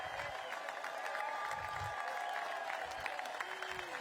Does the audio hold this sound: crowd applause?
yes